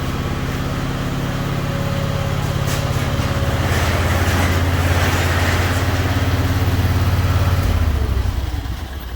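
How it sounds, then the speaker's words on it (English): A portable generator runs steadily near a John Deere 590M backhoe during a windshield replacement, a continuous low mechanical drone with a rough, buzzing texture that holds for several seconds before beginning to fade. "I like to run my generator every once in a while"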